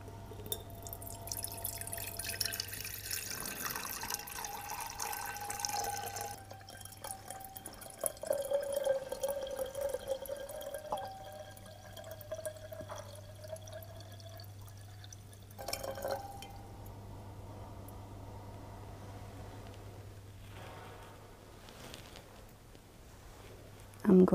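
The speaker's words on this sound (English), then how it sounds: "Now I'm going to pour this water into this bowl" Water pours steadily from a jug into a bowl with a trickling, dripping quality, fairly close, while a low steady hum runs underneath.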